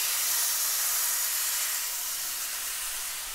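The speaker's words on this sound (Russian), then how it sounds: "Вы должны услышать сразу шипение, и на сковороде не должна образовываться вода." A beef steak sizzles in a hot oiled frying pan, giving a loud, steady, broadband hiss that fades slightly over a few seconds, with no voices.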